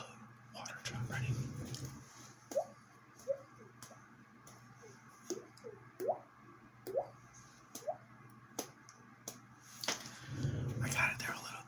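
A whispering voice imitates water drops with mouth sounds, producing about nine soft, evenly spaced wet clicks and pops that sit between brief stretches of close, breathy whispering at the start and the end.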